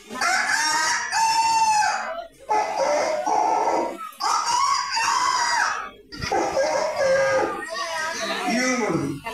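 A human voice imitates a rooster crowing, delivering several long, drawn-out cock-a-doodle-doo calls in a row, each separated by brief pauses, close and loud.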